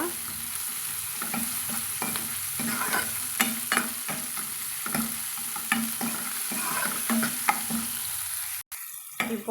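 Tomatoes with salt sauté in a pan with a constant sizzling hiss, while frequent spoon scrapes and taps come through as the mixture is stirred, ending in a brief clunk.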